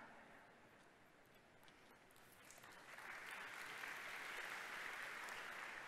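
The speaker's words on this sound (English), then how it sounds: "you guys are making this too easy with the applause" Conference audience applauding during a software presentation at a large user conference, steady dense clapping that swells louder about halfway through and keeps going, no voices over it.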